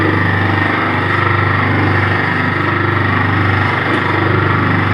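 A screw oil press expeller machine cold-pressing mustard seeds runs steadily up close, a loud continuous motor drone with a low rhythmic hum and no pauses.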